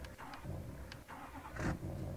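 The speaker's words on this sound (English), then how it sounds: "Oh, this truck is loud." A loud truck engine cranks and catches, with a few uneven chugging bursts and a rising roar near the end, close by.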